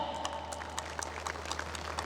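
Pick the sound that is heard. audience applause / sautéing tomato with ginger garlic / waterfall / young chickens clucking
audience applause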